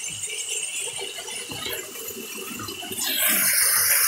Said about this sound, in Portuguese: tá aqui a cachoeira aqui no fundo.